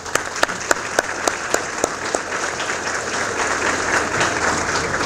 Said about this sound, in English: let's do a round of applause for everyone